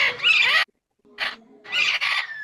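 Parrots at a bird sanctuary in Los Angeles give loud, harsh squawks, three raucous calls with a brief silent gap between them, close and dominant.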